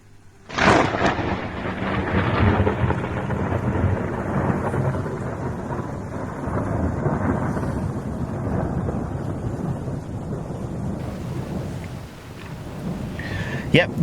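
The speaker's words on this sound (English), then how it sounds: "sent this excellent video clip of a lightning bolt" A close lightning strike in a UK storm, a sudden loud crack followed by a long, heavy rumble of thunder that rolls on under steady rain and wind noise, fading slightly near the end.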